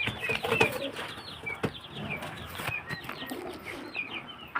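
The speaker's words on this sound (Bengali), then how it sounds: "একটা পায়রা দেখুন খুব সুন্দর কোয়ালিটির পায়রা" Pigeons kept for sale cooing close by, with soft repeated coos and chirps, occasional wing flaps and scattered clicks over a low background murmur.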